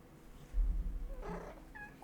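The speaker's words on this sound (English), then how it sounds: "Did you guys hear her meow?" A pet cat named Morgana meows briefly and softly at close range, a short tonal call near the end following a low thump, with no one talking over it.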